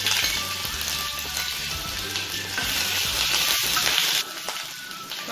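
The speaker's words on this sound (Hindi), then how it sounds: "और लहसुन को ब्राउन होने देंगे।" Ginger and garlic frying in hot oil in a pan, a steady, close hiss and sizzle with small crackles and stirring, continuing without talk.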